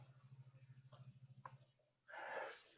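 A single sharp sneeze bursts out near the end after a few seconds of quiet wheezy breathing, close and fairly loud.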